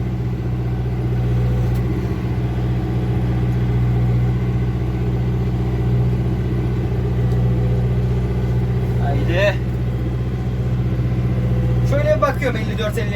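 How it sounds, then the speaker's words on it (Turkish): Massey Ferguson 5450 tractor engine labouring as it sinks into soil while pulling an 11-tine chisel plough in differential lock, a steady low rumbling drone throughout, with brief squeaks near the end and talk over it. "Gömülüyor motor bayağı."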